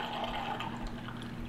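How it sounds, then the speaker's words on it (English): Wine streaming through a V Vinous wine aerator into a glass: a continuous, close, bubbly rush of liquid that stays steady for the whole short stretch, with no talking. "you put it on your bottle of wine and you pour yourself a glass of wine."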